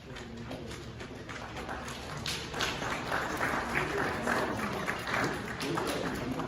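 Audience applause at a Swami Vivekananda birthday celebration, a steady wash of clapping from a seated crowd lasting several seconds, moderately loud and fairly even.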